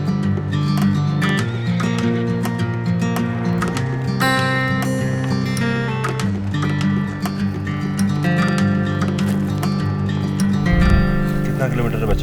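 Horses graze in a high mountain meadow on the Bhrigu Lake trek near Manali, with whinnies and hoof sounds amid steady, dense background noise.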